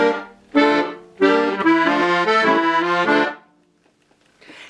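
Accordion playing a march-like passage from "Farewell of Slavianka", bass notes and chords sounding together in a steady rhythm, then a short pause before a faint new sound.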